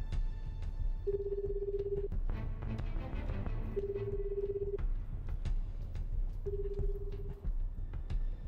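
In the video game 428: Shibuya Scramble, a telephone rings back three times, each a steady tone about a second long with gaps between, over a low hum and faint background noise.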